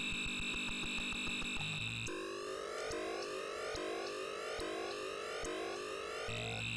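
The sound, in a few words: video game motorbike engine sound effect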